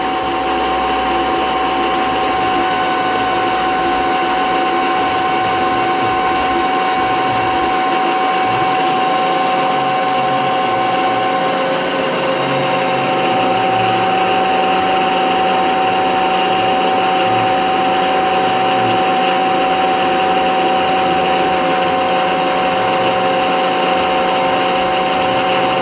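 Lathe cutting down an engine piston's deck height at a fine feed of about five thousandths of an inch per revolution, a steady machine hum with constant tonal whine and light cutting noise throughout, close and fairly loud.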